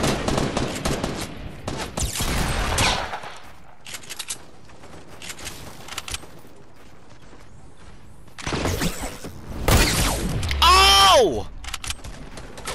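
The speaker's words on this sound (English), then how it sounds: "I shot him in the face with my sniper." Fortnite gunfire comes in bursts: heavy rapid shots clustered early, scattered quieter pops in the middle, then another loud volley with a rising whistling sweep near the end.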